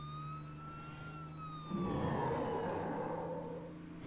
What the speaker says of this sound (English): if he has the siren and lights on the ambulance in game, he attracts more zombies